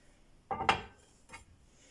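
A plate is picked up and handled in a home kitchen while making pastry: one quiet clattering knock of dishware, then a fainter tap a moment later.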